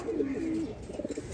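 One long rolling coo from Chila and Giribaz pigeons in a loft, close by, followed by softer fluttering murmurs as the call fades.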